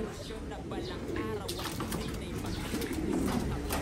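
Pet pigeons, a male and a female, coo softly close by under steady background noise, with a person talking nearby throughout.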